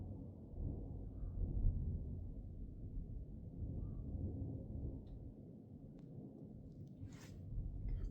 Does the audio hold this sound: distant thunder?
yes